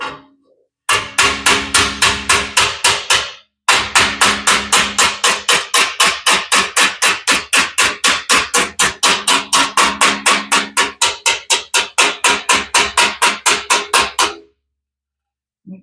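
Close, loud hammering on sheet metal while shaping a bottom corner of a 1941 Ford 2-ton truck cab: a steady run of rapid ringing blows, a brief pause after a few seconds, then dozens more quick strikes before stopping.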